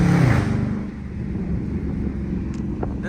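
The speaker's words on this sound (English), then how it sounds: "you can hear the intake on this bitch" A Dodge Charger R/T with a mid-muffler delete and resonator delete drives with a loud, steady engine and intake roar, broadband and continuous with no voices.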